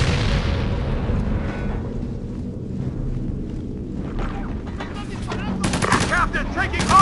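Sustained gunfire in the video game Ghost Recon Advanced Warfighter, dense bursts and rattling automatic fire over a rumbling battle bed, loud and continuous with a sharper flurry near the end.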